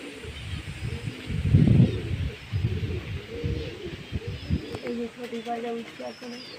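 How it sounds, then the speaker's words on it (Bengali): Young pigeons cooing softly in a loft on a windy, rainy day, low repeated coos close by with a person speaking over them. "এগুলো হচ্ছে নতুন বাচ্চা পায়রা"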